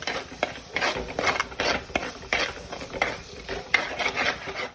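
Salt being stirred into fish curry masala in a pan: rhythmic scraping strokes of a spoon against metal, about ten close pulses over a soft sizzle, no talking.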